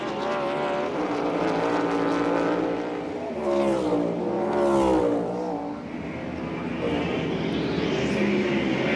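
William Byron's number 24 NASCAR race car engine screaming at full revs, with loud sweeping pitch rises and drops through gear changes and corners as it passes near, a faint commentator voice underneath.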